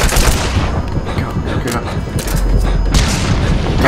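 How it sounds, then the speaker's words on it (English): Explosive booms and battle noise from grenades in Metal Gear Solid 5: The Phantom Pain, loud and dense throughout, with a heavier low thump late in the clip and a burst of crackle near the end. "how about some grenades?"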